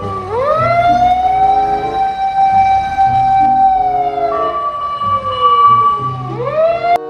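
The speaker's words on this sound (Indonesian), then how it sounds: "yang ini truk tangga penyelamat." A toy rescue ladder truck sounds its electronic siren. The pitch sweeps up, holds steady for a few seconds and then glides back down before rising again. It is loud and close, with a low pulsing beep underneath and no voices.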